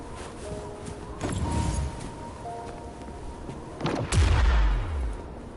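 An explosion set off with fulminate at a cliff in the video game Wuthering Waves, with a distant boom, a louder blast with a rumbling tail near the end, and game music and effects underneath.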